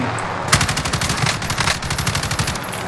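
Bursts of automatic gunfire from the video game Call of Duty: Warzone, loud and close, rattle in quick repeated volleys for about three seconds with no talking over them.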